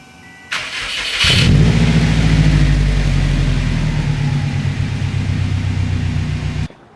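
Subaru WRX fitted with a billet wheel turbo, burning oil with blue smoke, cranks and fires up, then settles into a loud, steady rumbling idle with slight revving, close by and alone.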